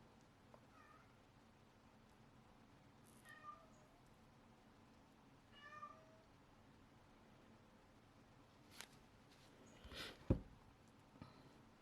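A pet cat named Anubis meows several times indoors, short thin cries spread over a quiet room, with a few soft bumps and a sharper knock near the end.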